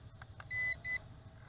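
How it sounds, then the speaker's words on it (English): A Potensic P5 Dreamer Mini drone emits two short, high electronic beeps in quick succession during a return-home test, close and clear, preceded by faint clicks. "Continuous double beeps."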